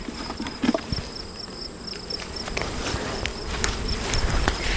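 Honeybees buzz steadily around honey supers being harvested from hives, a continuous insect drone with occasional faint knocks and clicks, no voices.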